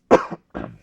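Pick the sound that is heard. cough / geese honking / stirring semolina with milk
cough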